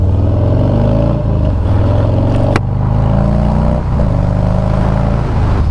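A motorcycle rides along a road on a gorgeous winter day after a Texas winter storm, its engine droning loud and steady throughout with shifting pitch as it changes speed, with no talking.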